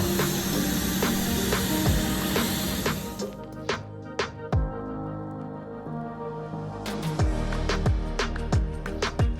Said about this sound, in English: So the next day we went straight to the workshop to get these in epoxy primer.